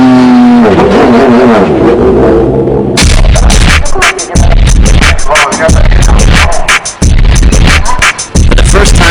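A race car driven hard around a track on used tires, engine screaming loudly and continuously with rapid gear changes and brief lifts, up close and without talk.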